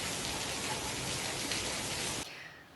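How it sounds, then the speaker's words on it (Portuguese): Rain falls after a five-month drought, a dense, steady hiss of drops that stops abruptly near the end. "Tinha 5 meses que a gente não molhava com água de chuva"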